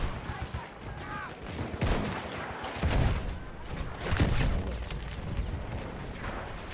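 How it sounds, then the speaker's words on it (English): A ship's cannon fired in a video game, a string of heavy booming blasts and crashing impacts over a rumbling battle backdrop, loud and close. "Right, now fire your cannon."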